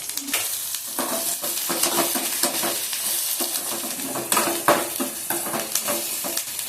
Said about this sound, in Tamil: கருவேப்பிலை ஒரு கொத்து அதையும் போட்டுக்கிடுவோம். போட்டு கொஞ்சம் வதக்குங்க.